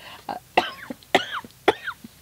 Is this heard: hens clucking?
no